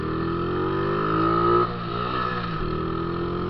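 A borrowed motorcycle being ridden, its engine droning steadily with a rising rev that peaks and then drops as the rider eases off, settling back into a steady hum, with no talking.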